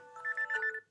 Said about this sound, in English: That's my alarm to take my medicine.